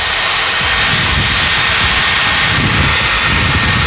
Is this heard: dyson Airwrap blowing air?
yes